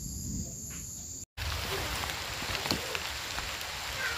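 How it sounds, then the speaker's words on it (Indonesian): Light rain begins to drizzle outdoors under a dark stormy sky, a steady soft patter of drops mixed with insect chirring, continuous after a brief cut. "udah mulai gerimis."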